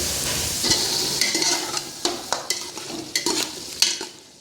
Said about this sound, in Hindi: अब इसको हम ये गोश्त में डालेंगे।